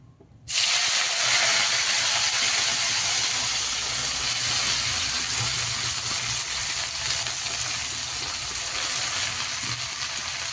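Washed spring onion greens hit hot oil in a heated pan and burst into a loud, steady sizzle that starts abruptly and holds for several seconds, hissing and crackling on its own with no voices.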